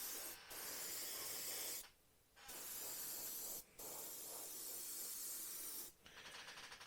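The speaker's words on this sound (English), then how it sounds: "this Mr. Hobby Aqua's colour is laying down a beautiful, beautiful satin coat of paint" Airbrush spraying Mr. Hobby Aqueous satin paint onto a Revell 1/32 He111 model, a steady close hiss in long bursts broken by brief pauses as the trigger is released.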